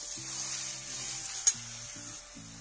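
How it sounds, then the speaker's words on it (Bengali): Chicken pieces fry with spices in oil in a wok, giving a soft, faint sizzle with light stirring and one brief clink, against a steady low hum. "এবার 10 মিনিটের মতো মাংসটাকে কষে নেব"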